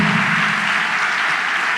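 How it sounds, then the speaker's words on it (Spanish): A church congregation claps loudly, a steady wash of many hands applauding without pause through the brief moment. "Demos un aplauso fuerte entonces a los hermanos y al Señor."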